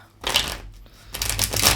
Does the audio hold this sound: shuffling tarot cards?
yes